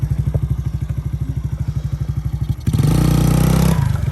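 A Kawasaki Mojave 110 ATV engine running close by, with a rapid, even chugging idle that jumps into a louder, steadier rev for about a second before easing back to the pulsing idle.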